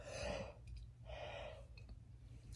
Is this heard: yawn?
yes